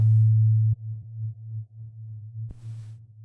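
A deep sustained bass note rings through a wobbly Valhalla Supermassive reverb plugin, swelling and dipping unevenly, with a couple of soft clicks along the way.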